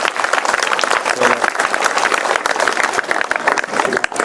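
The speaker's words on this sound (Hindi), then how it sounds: "तालियां ठीक से बजाओ देवराज के लिए" Schoolchildren at a prize ceremony applaud loudly and steadily, a dense patter of many hands, with voices mixed in.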